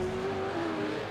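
A V8 race car on the Bathurst circuit in iRacing, engine droning steadily at high pitch under heavy braking, a continuous near roar without pauses.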